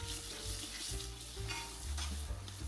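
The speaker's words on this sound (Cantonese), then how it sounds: "再放入蘆筍， 咁將表面煎到微微上色" Asparagus fries in a little oil in a pan over medium-low heat, a quiet steady sizzle broken by soft rhythmic stirring and shuffling as the spears are turned. No voices.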